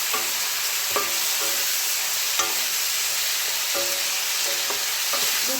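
Chopped tomato frying in a pan for lauki masoor dal, a dense, steady hiss of sizzling with occasional knocks of a spoon stirring against the pan.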